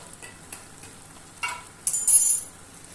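A spoon stirs pimentón de la Vera into a pumpkin dish in a pan, quiet scraping and a few light clinks of metal against the pan, close by, with a faint sizzle and no talking.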